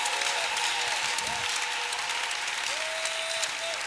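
Church congregation applauding during a sermon, a full, sustained roar of clapping across the room with a faint sustained organ-like tone wavering beneath it.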